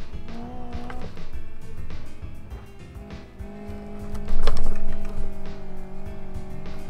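In the video game BeamNG, a Miramar rally car slides sideways, its engine whining through rising and falling tones, with bursts of tire noise and gear changes, loud and close throughout.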